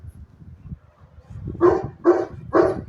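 Three loud, close dog barks come one after another at an even pace, after a stretch of low rumbling background noise.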